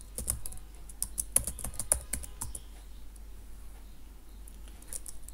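Fast bursts of clicky computer-keyboard typing, close and crisp, with a run of keystrokes followed by a short pause and a few more taps near the end.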